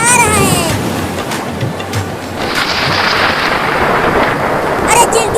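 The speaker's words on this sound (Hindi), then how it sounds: "देखो कितना बादल गरज रहा है।" Heavy rain pours steadily in a cartoon storm, a dense continuous hiss with low rumbles of thunder rolling underneath, loud and close throughout.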